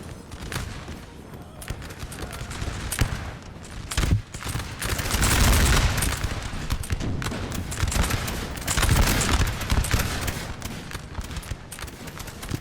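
Massed musket volleys in the Napoleon: Total War battle game, a dense crackling fusillade of overlapping gunshots that swells and recedes in waves, with bursts of heavier firing, continuing for the whole stretch.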